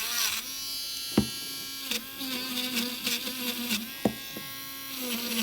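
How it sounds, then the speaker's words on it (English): A small rotary tool cleans oxidisation off a die-cast toy car, producing a steady, close, high-pitched electric whine that wavers slightly in pitch, with a few sharp clicks or knocks where the bit touches the metal. "So just get a little rotary tool."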